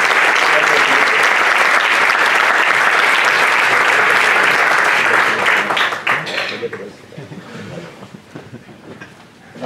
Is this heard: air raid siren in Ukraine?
no